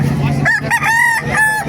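Chickens cluck and squawk close by at a poultry market in Baliuag, Bulacan, with a rooster crow rising out of a dense, continuous background of fowl noise.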